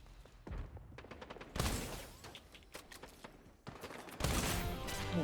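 Rapid automatic gunfire from a deployed turret in the shooter game Strinova, loud bursts of shots with brief gaps, mixed with other in-game impacts and effects.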